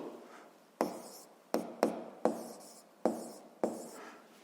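A pen writes on paper while a physics problem is being solved, making soft close scratching strokes in several short separate bursts against a quiet background.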